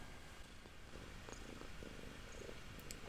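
A cat purring up close, a soft continuous rumbling purr with even rhythm, quiet and alone.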